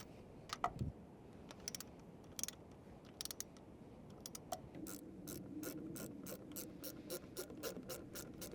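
A ratchet wrench tightens the cab bolts on a budget dump truck, working from the center out: scattered short bursts of sharp clicking give way to a fast, steady run of ratchet clicks, close and fairly quiet.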